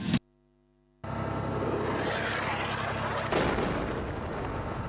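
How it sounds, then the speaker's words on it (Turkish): A mosque in Syria being bombed, heard as a played recording: a sharp bang, a second of silence, then a huge roaring blast with a second surge midway, loud and rumbling on without a break. "İsyancılar tekbirler eşliğinde cami bombalıyor."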